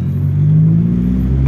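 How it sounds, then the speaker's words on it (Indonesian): A Honda Civic Wonder SB4 engine pulls under acceleration, giving a steady, close low rumble with a faint whir that holds smoothly throughout. "tarikan mesin enak banget nih mobilnya"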